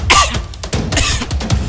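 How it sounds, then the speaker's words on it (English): Several rough, forceful coughs in quick succession, close and loud, with short gaps between the bursts. "Keep coughing."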